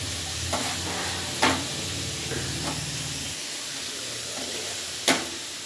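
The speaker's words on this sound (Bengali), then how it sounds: "আলুগুলোকে একটু ভেজে নিলাম।" Diced potatoes, steamed and drained, fry in a pan of oil, giving a steady close sizzle with a few sharp spatula clinks and stirring scrapes.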